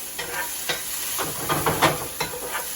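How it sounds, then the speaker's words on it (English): Green peppers sautéing in oil in a skillet for a succotash, a steady soft sizzle and hiss with a few scraping stirs, heard alone at moderate volume. "Just want this sauteed, just kind of softened up. I don't want it burned. But that's going in the oil there for a moment."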